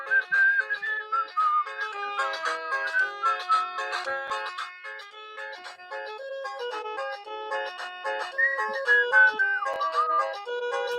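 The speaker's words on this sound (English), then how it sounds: "I bet that whistling's annoying." A melodic whistled tune plays continuously, bright and clear, with short trilling phrases and no talking.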